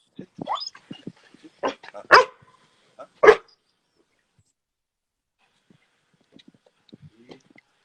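A trained search dog gives scattered sharp barks and yips, with two louder barks in the middle and fainter sounds toward the end, separated by quiet gaps.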